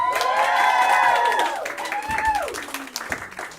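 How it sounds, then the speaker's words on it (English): Audience applause and cheering for performers at a live show at Outer Space in Arcata, a crowd clapping and whooping loudly at first, then fading while high tonal sweeps and shouts ring over the thinning claps. "let's get a round of applause for them"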